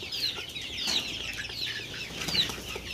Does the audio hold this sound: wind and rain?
no